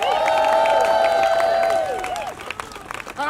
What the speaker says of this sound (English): Can we give him another round of applause, please?